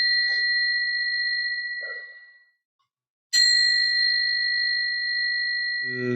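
A bell rung to open a study class gives two clear, ringing tones: the first strike sustains and fades over about two seconds, then after a pause a second strike rings out long and bright, with a voice starting at the end.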